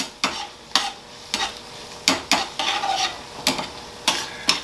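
A utensil stirs garlicky shrimp pasta in a pan in distinct scraping strokes, some single and some in quick pairs, close and fairly quiet with no voices.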